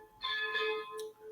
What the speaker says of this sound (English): There's a church bell.